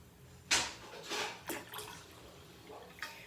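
Water is poured out of a measuring cup during a small-group science lesson, giving a few soft splashing bursts that trail off, faint and close.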